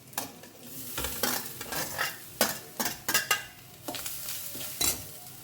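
Grated coconut fries in a pan with browned garlic for a Goan mushroom xacuti, as a soft sizzle under repeated sharp spatula scrapes and knocks against the pan, close and irregular.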